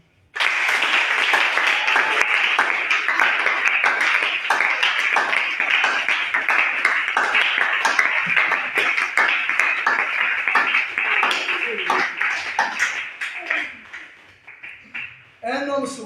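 A church congregation breaks into sustained, dense applause and rhythmic clapping, loud and continuous for about fourteen seconds with voices mixed in, before tapering off near the end.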